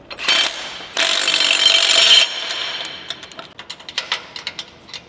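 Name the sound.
tool bolting a bracket on a Ford F-450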